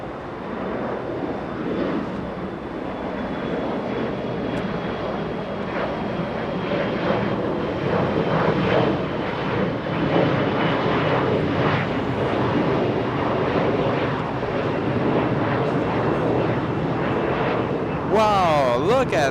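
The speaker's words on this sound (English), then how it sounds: "Little Sky West lifting off" A SkyWest regional jet bound for El Paso, Texas, takes off from Los Angeles International Airport, its engines a loud, steady broadband roar that holds for the whole stretch, with a brief chirping sound near the end.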